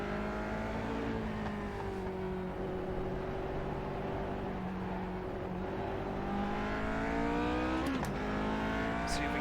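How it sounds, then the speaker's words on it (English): A car lapping the Nürburgring Nordschleife holds a steady, loud engine drone that rises in pitch and drops at gear changes, with brief throttle blips near the end. "Working on my shifting and like blipping the throttle to catch the gear at the right place."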